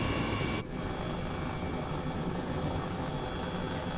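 An Airbus H135 helicopter flies in a flight simulator game, giving a loud, steady, broadband turbine and rotor drone that runs continuously with only a brief dip near the start.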